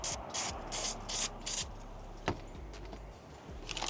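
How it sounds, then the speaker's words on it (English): Several short hissing bursts from an aerosol can in quick succession, sprayed around the edge of a rusted subwoofer, fairly close, followed by quieter rustling and a final spray burst. "I'm gonna go ahead and just spray a little bit on there, around the edge"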